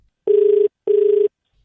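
Two long ringback tones on a phone call redialed after being cut off, each lasting about half a second with a short gap between, clear and close with no talking.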